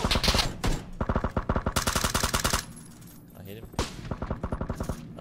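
Automatic gunfire in the PUBG video game: rapid, loud bursts of shots in quick rhythmic runs, broken by short pauses, heard up close with faint voices mixed in.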